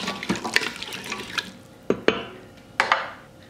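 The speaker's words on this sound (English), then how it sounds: "Stir it around" Beef stew with diced potatoes is stirred in an Instant Pot, with wet, sloshing stirring and several sharp clanks of the spoon against the metal pot.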